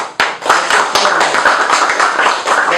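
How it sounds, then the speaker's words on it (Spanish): A university audience applauds after operating-systems presentations, close and loud, a brisk rhythm of individual claps with a sharp opening hit, steady for a few seconds without speech. "Vamos a darle un aplauso"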